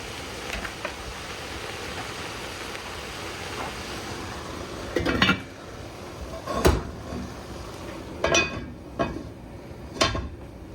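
Metal lids set down onto pots of onions in a home kitchen, several separate clinks and clacks spaced a second or two apart over a low, steady background hiss.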